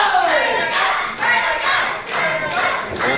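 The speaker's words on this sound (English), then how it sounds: "the crowd coming to the aid of the champ" A wrestling crowd at a UWA Elite Championship match roars and cheers in rising and falling waves, loud and sustained, with repeated swells of shouting and chanting.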